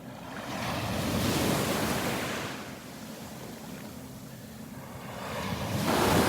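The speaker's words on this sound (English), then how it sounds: "Watch after the waves go by." Gulf surf on Vanderbilt Beach breaks and washes ashore in a broad steady roar that swells, eases and builds again, with some wind buffeting the microphone.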